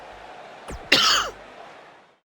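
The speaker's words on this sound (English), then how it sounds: "Sorry I'm coughing a bit." A single short, harsh cough bursts out close by against a quiet background, with a faint breathy sound just before it.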